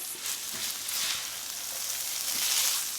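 Sausage fries in a pan, a continuous bright sizzle with soft stirring scrapes, close and steady, no voices.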